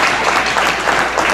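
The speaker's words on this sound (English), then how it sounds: "getting applause from around the arena." Steady applause fills a high school girls' hockey championship arena, a dense, continuous wash of clapping from the crowd with no pauses throughout.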